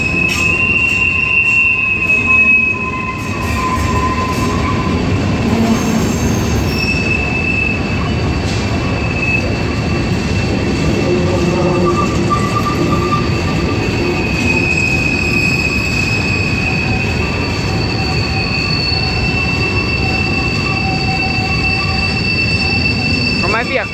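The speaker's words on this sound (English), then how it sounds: "I think this is an empty rock train." An empty rock train rolls past in Roseville, its wheels letting out sustained high-pitched squeals over a constant loud rumble of railcars, close and unbroken throughout.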